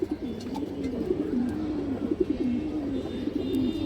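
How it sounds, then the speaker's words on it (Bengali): Soft, low cooing from old pigeons repeats in a steady rolling rhythm, close by, with faint rustling in the background. "একদম পুরান কবুতর এই দেখেন"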